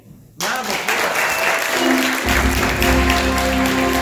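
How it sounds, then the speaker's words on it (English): Audience applause at a live event, bursting in suddenly after a brief quiet and holding as loud, dense clapping from a large crowd, with some voices and a low rumble mixed in. "Once again, round of applause."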